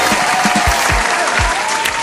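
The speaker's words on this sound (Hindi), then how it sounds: "तालियों से स्वागत कीजिए हमारे आज की खूबसूरत अदाकारा सिंगर" A studio audience on a talk show claps loudly and steadily to welcome a singer, a brief burst of close, dense applause with no talking over it.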